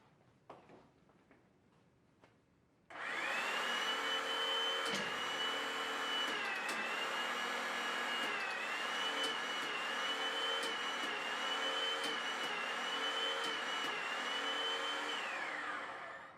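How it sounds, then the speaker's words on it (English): An Enerpac hydraulic pump drives a hydraulic torque wrench to full specified torque: after a few faint clicks it starts up into a loud, steady motor whine, holds with small pitch shifts, then winds down at the end. "we will set our pump to our full specified torque value and follow the same process to make a third pass"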